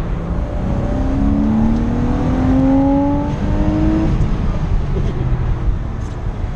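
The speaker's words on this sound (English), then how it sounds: "when you get this thing into the upper RPM ranges, that is when the magic happens" A car engine revs hard through the gears to around 6,500 RPM, its rising whine climbing in pitch several times as it shifts, loud and close, with no talk over it.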